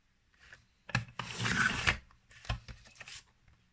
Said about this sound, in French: Donc moi je prends mon massicot, après on peut très bien découper au ciseau, hein.